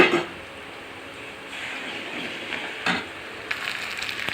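Ginger garlic paste with onion, green chilli and a pinch of turmeric fries in a pan, a soft steady sizzle with a few louder spatters and stirring scrapes.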